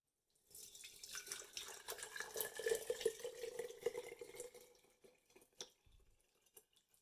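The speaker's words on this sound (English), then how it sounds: "I'm just going to strain them from the large jar into a couple smaller jars to strain out the blossoms" Clover iced tea, still warm, pours from a large jar through a strainer into smaller jars, a steady close trickle and splash that thins into a few drips near the end.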